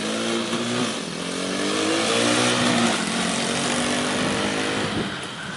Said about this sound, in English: It's a pit bike.